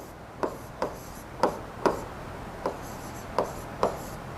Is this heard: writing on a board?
yes